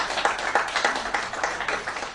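Applause at a workers' gathering at the N'sele site as a speaker is introduced: scattered clapping with irregular hand claps, moderately close and fairly thin, lasting a couple of seconds.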